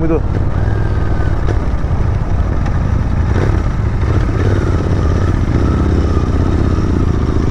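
A GT 650 twin cylinder motorcycle engine and exhaust running, a loud steady rumbling drone with slight rises in revs while the bike rides along, a voice talking over it at times.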